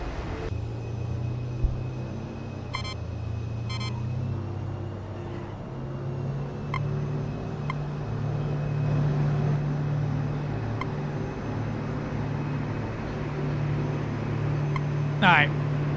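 An aircraft engine in a video game drones as a steady low rumble for the whole stretch, with faint clicks and short tonal blips over it.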